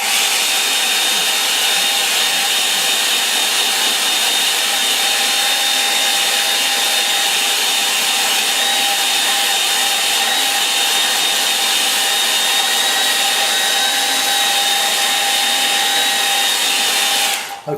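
A hair dryer blows steadily on a watercolour painting, a constant loud whirring hiss with a faint whine that runs unbroken and then cuts off at the very end, no talking.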